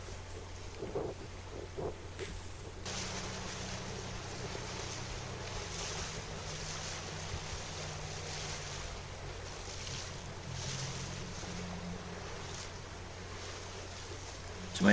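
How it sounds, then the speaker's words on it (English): Wind buffets the sails of a sailing yacht as it gybes at sea, a steady broadband rush of wind and water noise with a low drone underneath and no clear talk. "That's the wind hitting the other side of the sails there."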